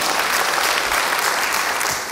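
Congregation applauding during a church service, a full steady wash of clapping throughout that eases off slightly at the very end.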